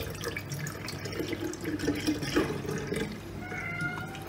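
Tap water runs and splashes while carp fish eggs are rinsed in a kitchen sink, a faint, uneven trickle with small clatters and a brief high whine near the end.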